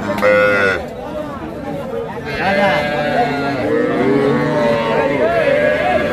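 Small calves at a cattle market give several drawn-out moos, one after another, close by, over a steady murmur of market voices and chatter.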